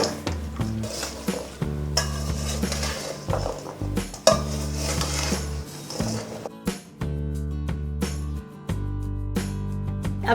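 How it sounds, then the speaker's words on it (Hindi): Raw mango pieces tossed with turmeric and salt in a metal bowl, giving repeated clattering scrapes and clinks of pieces and utensil against the bowl in short bursts with brief pauses, loud and close, no talking. "अभी हम इसे उछालेंगे ताकि सब हल्दी नमक मिल जाए इसमें"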